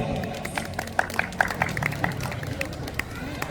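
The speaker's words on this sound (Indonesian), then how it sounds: "Yo, applause dulu, luar biasa." An audience applauds a young prize winner at an Indonesian independence celebration in Alicante, with steady clapping and crowd murmur running throughout.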